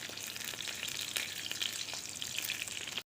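Pork fries in a pan with a dense, steady sizzle and crackle, scattered small pops breaking through the hiss, close and continuous with no talk.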